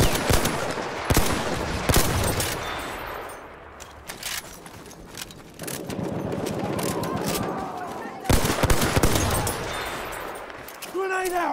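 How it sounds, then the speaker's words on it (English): Enemy machine gun fire in a Battlefield shooter, with rapid bursts of automatic shots and heavy impacts rattling on and off over about twelve seconds, loud and close, with a few quieter lulls between volleys. "There's an enemy machine gun!"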